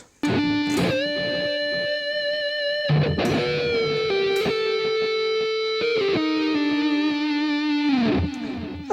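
Distorted electric guitar playing a short lick from a song's solo, sustained bent notes sliding between pitches with a few sharp pick attacks, loud and alone.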